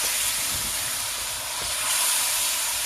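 Spicy Korean beef stir-frying over high heat gives a steady, loud broadband hiss and steamy sizzle throughout, with a few soft low knocks and scrapes underneath.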